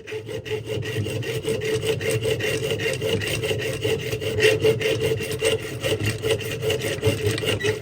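A hacksaw cuts through a metal rod held for plane-making, the steady back-and-forth strokes loud, close and continuous with a rasping, rhythmic grind and no talking.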